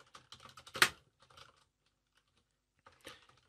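Computer keyboard typing while entering SQL column names, with close bursts of key clicks, one louder tap, a long pause and then a final short burst.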